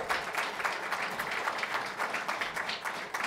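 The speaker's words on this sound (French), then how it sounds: "je vous demande sans plus attendre d'accueillir le réalisateur Anthony Russo, qu'on applaudit bien fort" An audience at the Captain America: Civil War press conference applauds director Anthony Russo, a brisk, fairly quiet patter of many hands clapping for a few seconds without talk.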